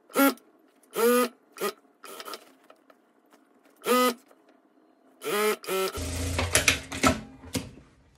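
A sewing machine stitches the sleeve and lining of a tailored blazer-style jacket, with short separate mechanical bursts at first, then a steadier louder run of stitching in the final seconds.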